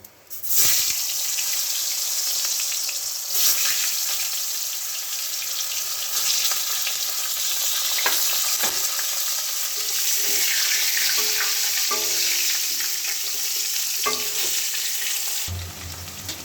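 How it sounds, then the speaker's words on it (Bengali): Potatoes and cauliflower fry in the oil left in a karai wok after frying fish, giving a loud, steady sizzle close up with occasional stirring clatter and no talking. "মাছ ভাজার পরে কড়াতে যে তেলটা আছে তাতে আমি আলু আর ফুলকপিগুলো ভেজে নেবো"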